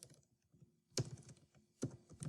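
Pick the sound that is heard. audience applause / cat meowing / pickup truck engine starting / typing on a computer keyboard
typing on a computer keyboard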